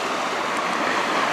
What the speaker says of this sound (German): hier diesen kleinen Wasserfall wollte ich euch doch gerne noch zeigen